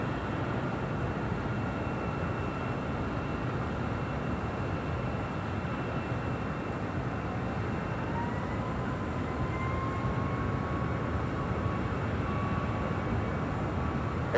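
An airliner takes off from runway 25 right at LAX, a steady, continuous roar with broad rumble and a faint tonal whine rising slowly, heard from a distance with no voices.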